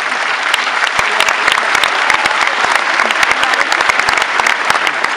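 A large audience at a musical gala bursts into sustained, loud applause, dense clapping continuing evenly throughout.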